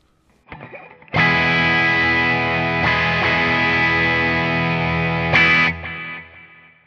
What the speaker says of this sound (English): And then finally, scene 7 adds the reverb.